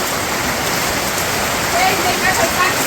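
Light village rain drips steadily in a few scattered drops, making an even, hissing patter that stays continuous and fairly loud throughout.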